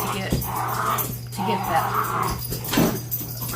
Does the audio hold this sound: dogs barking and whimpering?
yes